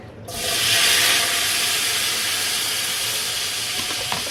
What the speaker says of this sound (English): Now, I'm gonna add all my onion, my garlic,